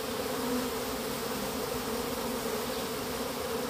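A dense, steady drone of a honeybee swarm pouring from a hive, buzzing all around, loud and unbroken throughout, with no voices.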